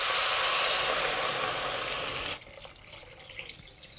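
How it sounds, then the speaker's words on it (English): Two liters of water pour steadily into a cooking pot for about two seconds, then stop, leaving quieter kitchen noise with faint splashes. "We'll add in 2 liters of water."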